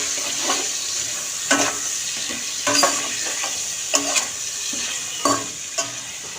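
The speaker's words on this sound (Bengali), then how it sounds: "আমি আলুগুলো ভেজে নেবো" Potatoes fry in a pan for chicken biryani, a constant close sizzle punctuated by repeated spatula scrapes and knocks every second or so, with no voices.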